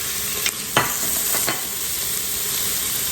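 Garlic and vegetables sautéing in a soup pot, a steady close sizzle with a few sharp stirring scrapes and clinks partway through, no talking.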